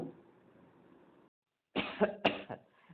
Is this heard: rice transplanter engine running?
no